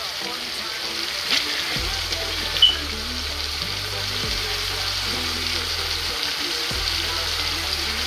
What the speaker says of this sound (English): now I'm gonna add my saltfish